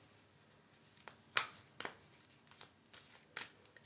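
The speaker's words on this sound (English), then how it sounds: "shuffle, shuffle these cards" Tarot cards are shuffled by hand in a quiet room, with soft riffling and several sharp snapping slaps at uneven intervals, close and fairly faint.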